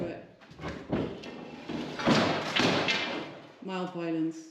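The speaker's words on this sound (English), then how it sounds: "because we can't get this door open." Thuds and bumps come from a stuck warehouse door being forced open on a rural quinta in Central Portugal, with a few heavy knocks and scraping mixed under overlapping voices, followed by short tonal creaks.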